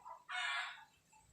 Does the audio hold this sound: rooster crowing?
yes